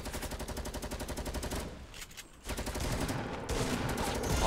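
Rapid automatic gunfire from the Fortnite video game, dense repeated bursts rattling loud and close, with a brief lull midway before the firing resumes just as heavily.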